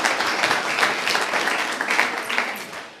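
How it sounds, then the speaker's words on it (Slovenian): An audience at a lecture on parenting adolescents claps in a moderate, uneven burst, the patter rising and falling slightly before tapering off near the end. "dajte en aplavz tamle"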